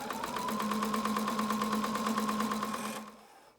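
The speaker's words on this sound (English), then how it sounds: "So now we're going to sew our curve." A sewing machine stitches a curved seam on a fabric face mask, its needle clattering in a fast, steady rhythm for about three seconds before stopping abruptly, close and fairly loud with no talk.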